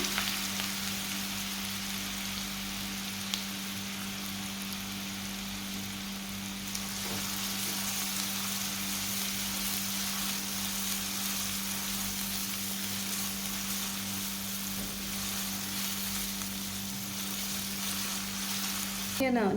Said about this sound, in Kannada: ಸಣ್ಣ ಸಣ್ಣಾಗಿ ಹೆಚ್ಚಿಟ್ಟಂಥ 2 ಮಧ್ಯಮ ಗಾತ್ರದ ಈರುಳ್ಳಿಯನ್ನು ಹಾಕ್ಕೊಳ್ತಾ ಇದ್ದೇನೆ.